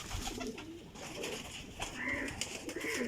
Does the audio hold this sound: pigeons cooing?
yes